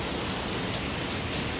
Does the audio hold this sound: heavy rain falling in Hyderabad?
yes